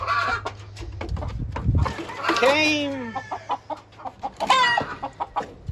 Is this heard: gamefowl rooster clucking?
yes